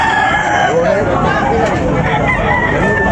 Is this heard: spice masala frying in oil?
no